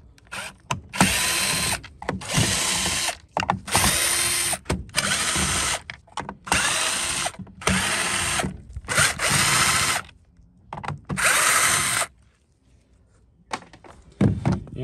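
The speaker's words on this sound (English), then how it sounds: "So all you do is just get a screwdriver" A power screwdriver or drill runs in repeated bursts of about a second each while backing screws out of a Shark Navigator vacuum power nozzle. The whirring bursts are close and loud, separated by short pauses, with a few clicks and thunks in between.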